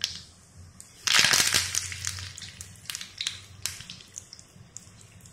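Curry leaves dropped into hot mustard-seed oil burst into a loud, close sputtering crackle, then settle into intermittent pops and sizzles.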